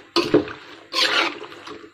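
Water poured into a cooking pot of spiced curry seasoned with chili powder and salt: two short, close splashing bursts with a brief pause between them, the second longer and trailing off.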